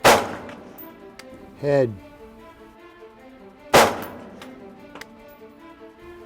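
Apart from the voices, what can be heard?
rifle gunfire during army qualification shooting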